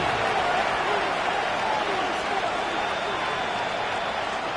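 A steady, dense roar of a stadium crowd cheering in an EA Sports football game near the goal line late in the game, constant and broad beneath commentary.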